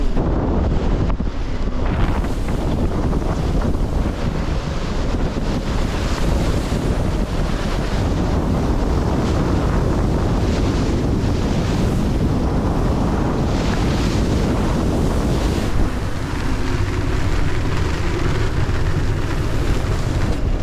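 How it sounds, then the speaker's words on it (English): Strong storm wind on a sailboat at sea roars constantly against the microphone, mixed with crashing waves and the rush of water along the hull, loud and unbroken throughout. "Now the wind had reached 30 knots, which was stated by the weather reports."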